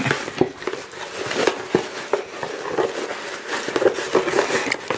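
A package of Keto Houz Barely Bread, 15 frozen slices, is handled and opened, producing irregular crinkling, rustling and soft crackles of plastic wrapping up close, with no talk.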